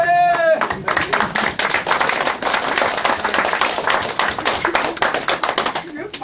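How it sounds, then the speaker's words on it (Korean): Audience at a citizens' movement lecture breaks into dense, sustained applause right after a brief voice, the clapping loud and steady for several seconds. "박수 안 치는 분은 뭐 유감 있나? 네? 그러지 말고 좀 쳐주세요"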